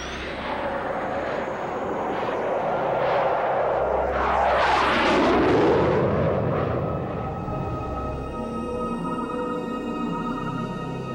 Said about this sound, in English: the Belgian Air Force were able to scramble 2 F-16 fighters to intercept the unidentified intruder